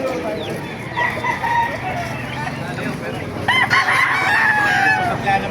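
Roosters crow and hens cluck close by in a crowded chorus at a chicken market in Baliuag, Bulacan, with busy background chatter and movement around them.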